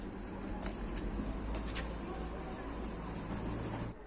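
Steady abrasive rubbing, a continuous scrubbing of wet 400-grit sandpaper against a yellowed plastic car headlight with a faint wet edge, close up and unbroken for several seconds.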